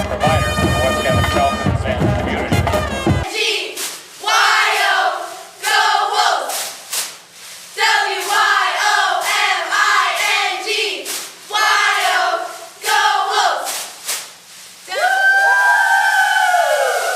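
The Wyoming cheer team performs in loud, rhythmic shouted chants with a crowd responding. A short burst of music opens the scene before the repeated cheering calls.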